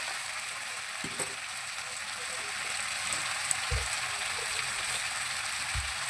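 Onion, pumpkin and potato fry in a pan with a soft, even sizzle, faint and steady, with a couple of low bumps from stirring.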